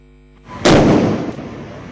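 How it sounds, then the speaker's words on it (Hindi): A single loud, close firecracker blast set off during Diwali celebrations in Delhi-NCR. The sharp bang rises from low background noise and then fades slowly, with no talking. "जहां कोर्ट की पाबंदी के बावजूद जमकर पटाखे फोड़े गए"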